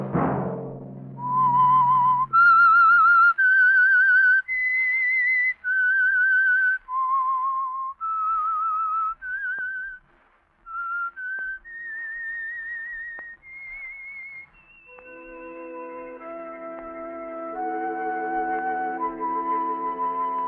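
A lone whistler performs the signature melody of The Whistler, a Signal Oil radio mystery program. The clear, sustained notes step up and down one after another, and soft orchestral chords join near the end.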